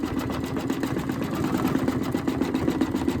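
Embroidery machine stitching a flower design on a wildflower cushion quilt block, a fast steady mechanical whirring and needle pulsing, close and continuous with no talk.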